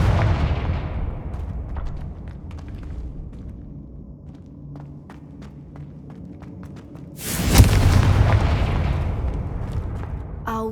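A Confringo fire spell in Hogwarts Legacy on PS5 bursts with a sudden loud blast and rushing roar, following a low rumbling stretch dotted with faint clicks.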